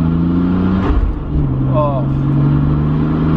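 A Nissan R33 Skyline GT-R engine running and revving, a steady mid-pitched drone with a brief rise in pitch, while someone talks over it.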